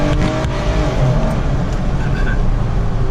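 A Jeep Wrangler JK fitted with a throttle controller accelerates hard, a loud continuous engine roar with road and wind noise throughout.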